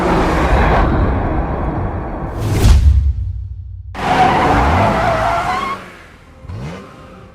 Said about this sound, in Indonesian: Andrew memerintahkan Belle untuk segera mengerem mobilnya.